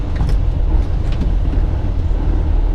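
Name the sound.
truck engine revving during a gear shift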